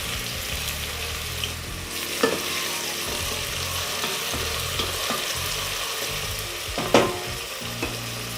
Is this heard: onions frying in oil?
yes